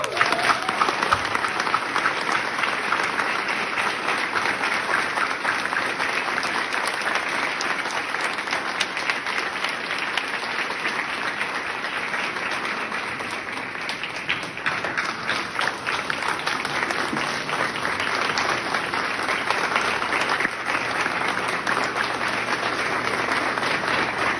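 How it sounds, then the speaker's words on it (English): An audience at a university military commissioning ceremony breaks into sustained applause, a dense wash of clapping that holds steady for over twenty seconds. "Please join me in a round of applause."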